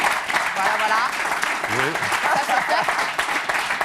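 Audience applause at a tense press conference, a steady wash of clapping that runs throughout while voices speak over it.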